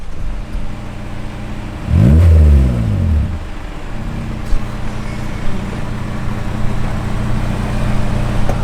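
A car driving off with its engine revving, a loud surge of acceleration about two seconds in that fades into steady moderate road and engine noise.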